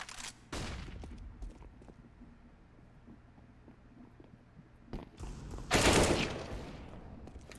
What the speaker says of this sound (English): Ships returning fire with the AWP into side.